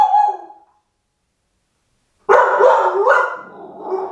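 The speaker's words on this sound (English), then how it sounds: "Cue Ruby's barking." A dog barks at a chocolate Labrador passing the house, a short loud burst at the start, then a pause before a longer run of excited barking and yips close by.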